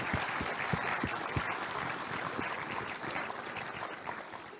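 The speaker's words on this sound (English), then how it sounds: "another round of applause, please" Sustained audience clapping fills the hall at a state Australian of the Year awards ceremony in Queensland, dense and steady throughout with a few sharper close claps standing out.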